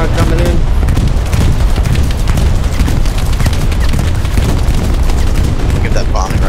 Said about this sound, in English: Look at that bombing run.